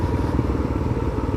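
An old motorcycle's engine runs steadily during a ride, a close, low, rhythmic chugging drone with no talk over it.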